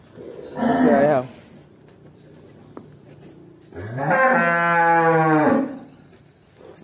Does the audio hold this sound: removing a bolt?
no